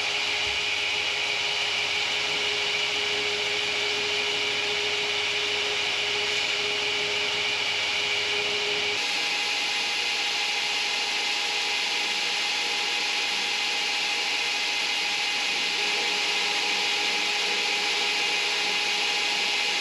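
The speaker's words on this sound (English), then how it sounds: "now I'm going to switch to my 12-inch wheel and begin the sort of the final rough shaping with that the 12-inch" A 12-inch wheel grinds and rough-shapes a wooden knife handle, a continuous abrasive rushing hiss with a steady motor whine, changing tone partway through as the pressure or contact shifts.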